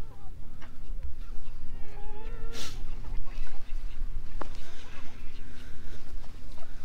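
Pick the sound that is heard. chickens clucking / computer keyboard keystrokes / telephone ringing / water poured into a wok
chickens clucking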